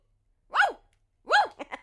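A person imitates a dog, giving two separate barks about a second apart, the second followed by a couple of short yips.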